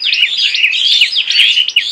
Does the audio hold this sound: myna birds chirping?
yes